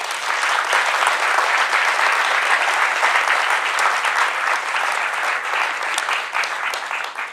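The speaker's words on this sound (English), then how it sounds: "let's give them a big round of applause" A big round of applause from a community conference audience for its organizers, dense and loud sustained clapping from many people lasting over seven seconds.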